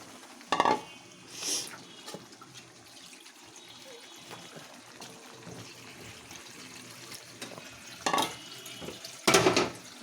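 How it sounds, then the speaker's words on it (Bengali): Water is poured into a pan of katla fish curry (macher jhal) for the gravy, heard as a few short, splashy bursts separated by quiet stretches. "আমি মাছগুলোতে পর্যাপ্ত পরিমাণে এখন ঝোলের জন্য পানি দিয়ে দিচ্ছি।"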